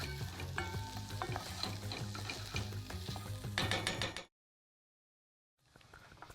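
Whole coriander seeds toast in hot oil for a rice pilaf, crackling and popping briskly under metallic stirring clatter, then a sudden cut to silence before a quieter burst of sizzle returns.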